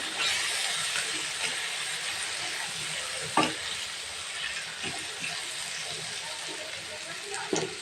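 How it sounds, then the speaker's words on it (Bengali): Coriander, cumin and turmeric powder spices fry for a beef curry, a steady hiss broken by a few scraping stirs and soft clinks. "এখন এটাকে আমি ভালো করে দিয়ে দিচ্ছি। দিয়ে ভালো করে কষিয়ে নিচ্ছি।"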